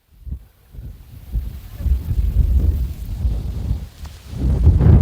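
Strong wind gusts across a steep hilltop above a deep gorge, a rumbling, buffeting roar that swells and fades and builds again toward the end.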